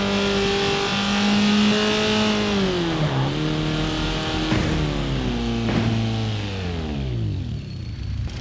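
Inline four-cylinder 2.3 litre engine with individual throttles in a BMW E30 in the BeamNG Drive driving game, revving loud and steady with pitch sweeping down and back up through gear changes, tyres briefly squealing.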